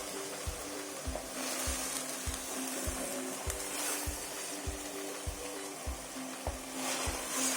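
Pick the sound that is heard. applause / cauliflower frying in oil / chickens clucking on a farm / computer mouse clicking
cauliflower frying in oil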